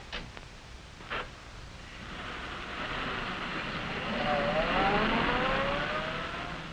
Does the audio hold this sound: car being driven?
yes